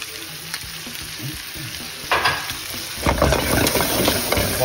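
Garlic butter prawns sizzle steadily in a hot pan while being stirred, with scraping swells of the spoon rising over the constant frying hiss and growing busier in the final seconds.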